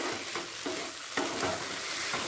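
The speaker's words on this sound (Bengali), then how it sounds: "সাবুদানাটা দিয়ে সবজির সাথে ভালো করে মিশিয়ে নিচ্ছি। লো ফ্লেমে 3 থেকে 4 মিনিট মিশিয়ে নিলাম।" Sago (sabudana) being stirred together with vegetables in a pan over a low flame, giving repeated scraping strokes at a steady rhythm over a gentle, constant sizzle.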